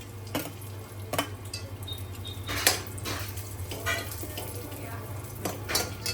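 Vermicelli kheer ingredients tipped into a kadhai with a little ghee: scattered clinks and scrapes of utensils against the pan over a steady low hum, with a few sharper knocks spaced through the clip.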